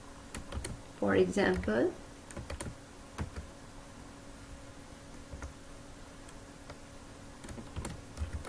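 Someone types subject names into an Excel sheet on a computer keyboard, making soft, scattered key clicks in short bursts; a voice speaks briefly.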